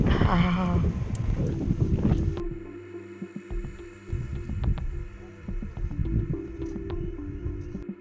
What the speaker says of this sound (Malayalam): നല്ല കാറ്റും നല്ല തണുപ്പും, എന്താ ഫീല്.